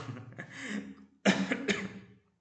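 A couple of close, harsh coughs, the second burst louder and more forceful, with no talking.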